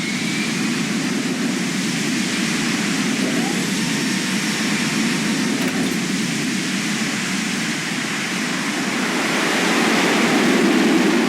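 An aircraft engine drones steadily in flight in the video game Deus Ex: Human Revolution, a broad, constant roar that holds level throughout and swells slightly near the end.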